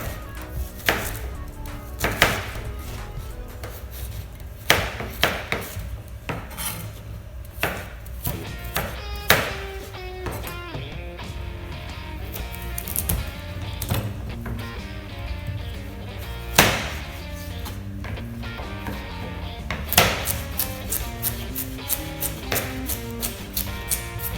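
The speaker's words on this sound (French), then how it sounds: "on coupe un peu plus gros que le ciselage" A kitchen knife coarsely chopping vegetables on a board, a brisk, uneven series of close, crisp knocks with short pauses between bursts.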